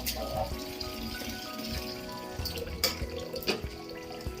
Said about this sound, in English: So let it drain, let the water drain, and let it stand like this for about an hour.